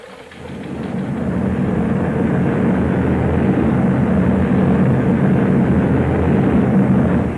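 A formation of twenty-seven heavy bombers at about 12,000 feet passes overhead, a loud, continuous low droning roar that swells in and holds steady throughout, with no talking.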